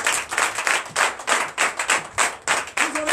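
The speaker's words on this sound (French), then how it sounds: "Donnez l'acclamation à notre Seigneur." A church congregation at a Sunday service in Benin claps in acclamation, loud rhythmic bursts of many hands striking together in quick repeated waves.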